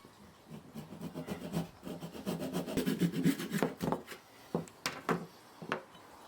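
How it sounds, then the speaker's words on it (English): Rhythmic rasping strokes of a saw cutting through an old wooden axe handle, close and steady, speeding up and then breaking into shorter, separate pushes toward the end. "Let's start by sawing off the handle."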